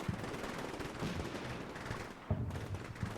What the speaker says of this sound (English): Oh, they're getting shot at.